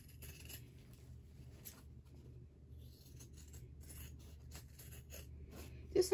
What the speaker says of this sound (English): the sound of scissors cutting fabric, or is it just me?